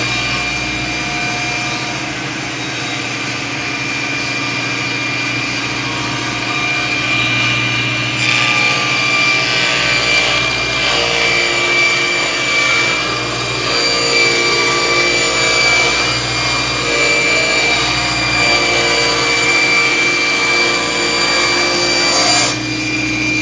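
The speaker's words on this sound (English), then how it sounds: "I'll start by ripping this 2 foot by 4 foot piece of 3/4 inch plywood in half" A 2 foot by 4 foot piece of 3/4 inch plywood is ripped lengthwise on a saw, with a loud continuous whine and roaring cut noise that holds for over twenty seconds, steady with slight shifts as the blade works through the sheet.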